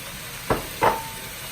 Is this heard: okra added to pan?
yes